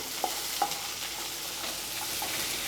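Steady crackling sizzle of ridge gourd peel and curry leaves frying in a pan, with a couple of soft scraping stirs near the start, no talking.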